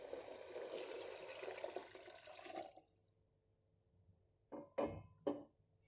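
Water pours steadily into a pot for mushroom biryani for nearly three seconds, then stops; a few sharp metallic clinks and knocks of the vessel follow, close and clear.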